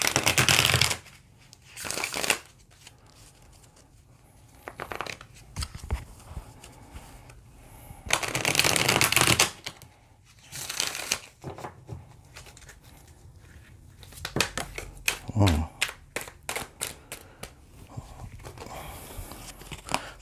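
A deck of tarot cards is shuffled by hand in close, crisp riffling bursts. Longer flurries alternate with short taps and pauses, and there is no talking.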